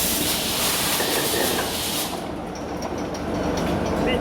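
The engine of the ship M/V Steve Irwin runs up in revs during a warm-through, a loud, continuous mechanical roar with a hissing top that eases slightly partway through.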